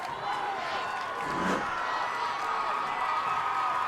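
A crowd at a Homestead at Concordia high school football game cheering for the Cadets, a broad steady roar that swells slightly midway, with a commentator's voice over it.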